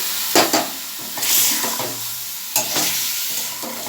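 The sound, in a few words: vegetables frying and being stirred with cumin paste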